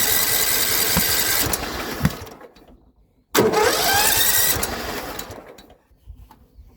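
A John Deere L110 lawn tractor that sat for three years cranks, and its engine catches twice. It runs roughly for a couple of seconds each time and then dies back, with a silent gap between the tries.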